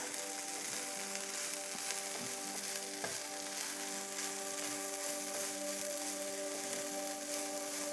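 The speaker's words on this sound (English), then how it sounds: "we're just gonna give it a good stir" A breakfast scramble frying over medium heat in a non-stick skillet: a soft, even sizzle that runs throughout over a steady tonal hum, with a few light stirring clicks.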